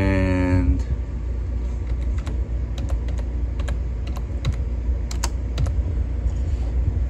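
Keys clatter on a computer keyboard in scattered quick taps and short bursts, heard close up over a steady low background hum, with a brief tonal sound at the start.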